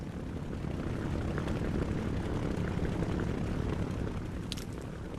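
In the War Thunder combat flight game, a propeller aircraft engine drones steadily at moderate distance with broadband rumble, taking off, with no talk.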